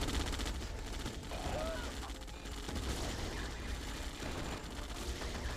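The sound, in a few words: SVS gunfire in a video game battle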